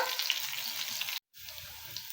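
Chicken pieces sizzle in a pan as their fat renders into oil, a bright, dense hiss that cuts out briefly midway and then resumes at a similar level.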